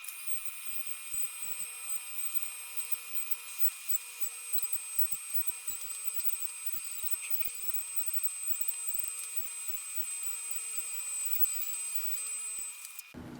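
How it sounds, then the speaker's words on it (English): Die grinder deburring the sharp edges of bored soft chuck jaws in a machine shop, a steady high-pitched whine running throughout with short scraping contacts against the metal, moderately faint. "Last step is to drag the die grinder over and deburr all the sharp edges."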